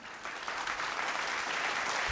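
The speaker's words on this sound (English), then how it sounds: "A big applause for both of them." A crowd breaks into steady, sustained applause, the clapping swelling quickly and holding at a full, dense level.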